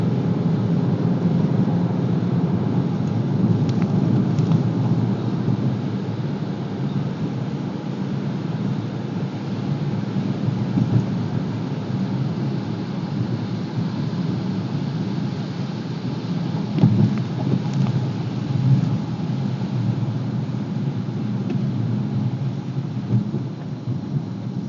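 Rain keeps up a steady, continuous hiss over the low road rumble of a car being driven, picked up by a dashcam fitted with a rain shield, with a few faint thuds and no voices.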